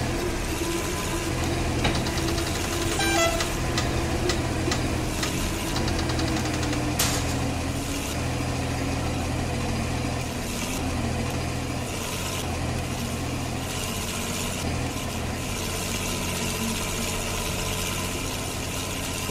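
A New Holland 3630 tractor engine in the video game Farming Simulator 22 runs with a steady, rough low rumble and knock, loud and continuous throughout.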